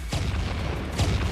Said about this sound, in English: Random explosions.